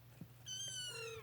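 A mother cat meows softly with a couple of drawn-out calls, near but quiet, with no talking over it.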